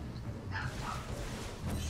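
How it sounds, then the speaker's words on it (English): Small chihuahua dogs yap and bark indoors, scattered sharp yips at moderate distance over a steady low background hum. "I do apologize for the dog barking."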